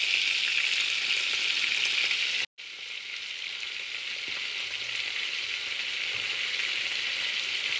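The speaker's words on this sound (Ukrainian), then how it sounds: "Так, перевертаємо наші фрикадельки." Meatballs frying in a pan give a steady close sizzle, broken by a brief dropout as they are turned, then crackling on at an even level.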